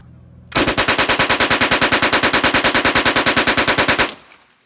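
A British submachine gun fires one long full-auto burst of about three and a half seconds, dozens of rapid, evenly spaced loud shots, followed by a short ringing tail.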